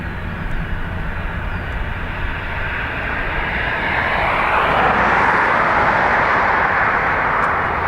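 Ryanair jet taking off at full length from Dublin Airport's north runway, bound for Hamburg, a broad roar that swells and brightens midway and stays loud to the end, with no voices.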